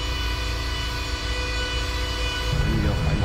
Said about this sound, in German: unser Zug setzt sich jetzt langsam in Bewegung